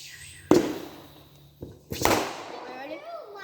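Firecrackers at a small fireworks show pop with two sharp, fairly close bangs and a softer crack between them, followed by crackling and whistling, while people talk.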